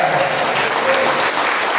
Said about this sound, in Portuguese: Convido a igreja a dar a mais forte salva de palmas ao Senhor Jesus